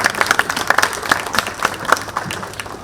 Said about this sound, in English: Round of applause for yourself actually.